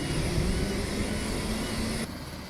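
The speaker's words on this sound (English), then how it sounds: "these are some helicopters that were taken off from the port that day." A steady, droning rotor and engine roar fills the air, loud and continuous, then drops slightly near the end as the helicopters move off from the Port of Tacoma.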